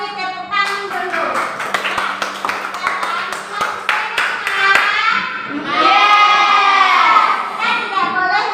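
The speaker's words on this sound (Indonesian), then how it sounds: "Terima kasih, tepuk tangan dulu." A primary school classroom breaks into scattered hand claps that quickly build into brisk applause, then children's voices rise in a loud, overlapping cheer near the end.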